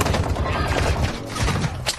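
A .50 cal fires in the online shooter Warzone 2.0, a dense burst of heavy, rapid booming shots with thuds, loud and close, filling the whole moment.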